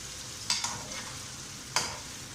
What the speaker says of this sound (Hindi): प्याज हल्के फ्राई हो चुके हैं।